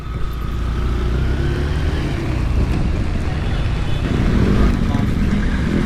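A motorcycle rides through high floodwater on a flooded street, a loud, continuous rush of churning water and engine noise mixed with wind buffeting, steady throughout with faint voices beneath.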